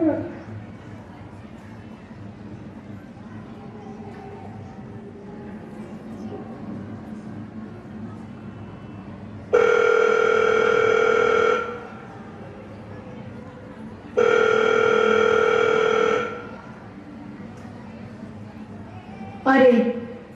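An unanswered telephone rings in three steady electronic bursts, each about two seconds long, separated by pauses over a quiet room.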